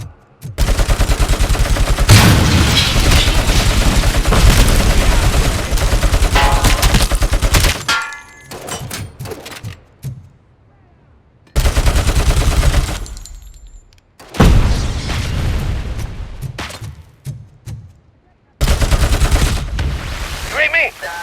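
Dense gunfire in the game RoboCop: Rogue City comes in loud sustained bursts of rapid shots broken by brief quiet gaps, with clanging impacts and shattering debris mixed in and shouted voices around the firing.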